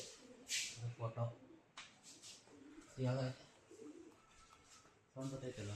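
A bird calls inside a regional natural history museum in Mysore, giving a few short cooing bursts that echo faintly beneath people talking nearby.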